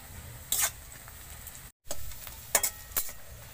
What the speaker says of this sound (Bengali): পেঁয়াজ আমি ভালো করে ভেজে নিয়েছি